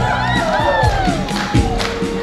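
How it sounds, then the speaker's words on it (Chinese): Crowd cheering and shouting for performers at a Christmas event in an Atayal church in Wulai, loud, close and excited voices whooping in a short burst. "来，给他们掌声鼓励一下"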